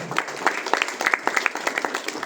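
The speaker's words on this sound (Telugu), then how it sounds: "సార్కి ఒకసారి క్లాప్స్ కొట్టవచ్చు" A live audience at an event claps for Narasimha sir, a brief burst of many hands striking together at close range, steady and fairly loud with faint voices underneath.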